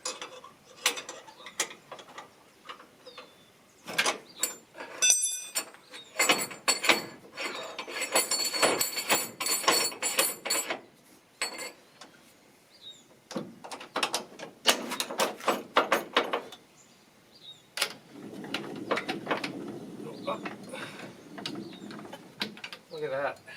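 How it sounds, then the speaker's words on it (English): Black & Decker 18 volt drill driving a trailer valet to move a trailer, heard as bursts of whirring motor and gear ratcheting that start and stop repeatedly, with quiet gaps between runs. "So I moved it around using this cheap Black & Decker 18 volt"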